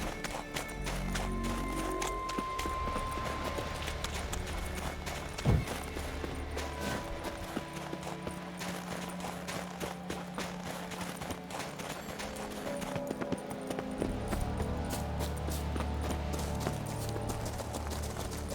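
Horse hooves clip-clop steadily in The Witcher 3: Wild Hunt, with a brief whinny and background music running throughout.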